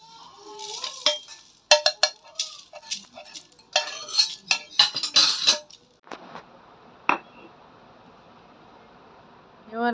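Whole coriander, cumin and dried chillies being dry-roasted in a clay pan give off an irregular run of clinks, scrapes and stirring knocks, close and fairly loud, with quiet gaps between.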